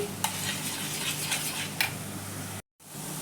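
A spoon stirs spices into yogurt in a bowl for arbi curry, producing a steady, close, wet scraping with a couple of sharper clinks against the bowl and a brief dropout near the end.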